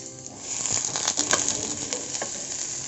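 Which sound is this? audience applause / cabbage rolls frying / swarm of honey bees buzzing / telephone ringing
cabbage rolls frying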